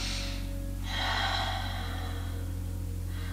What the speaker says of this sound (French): Et là, tu vas faire 3 grandes respirations.